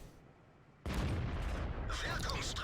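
A heavy tank cannon blast in World of Tanks erupts suddenly after a quiet moment, its loud roar sustained and rumbling through to the end.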